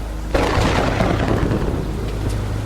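Heavy rain pours down steadily on a sailboat deck, with a deep rumble of thunder rolling in after a brief quiet moment and continuing loudly beneath the downpour.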